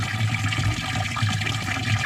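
Borehole water pouring into a nearly full home storage tank, a steady rushing, splashing flow with a low rumble underneath, continuous throughout.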